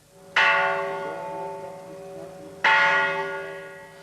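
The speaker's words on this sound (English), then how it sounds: "rang the ritual peace bell to start the General Assembly" The ritual peace bell at the United Nations General Assembly is struck twice, each a loud, clear metallic strike that rings out and slowly decays, heard alone.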